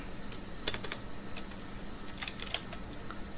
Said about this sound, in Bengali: ওকে, এরপর আমরা এন্টার দেব।